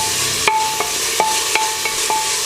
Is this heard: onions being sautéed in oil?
yes